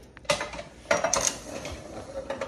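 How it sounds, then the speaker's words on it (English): A utensil scrapes and clinks against a pot of butternut squash mac and cheese in a few short, bright knocks, fairly close and with no talking. "I gotta mix it."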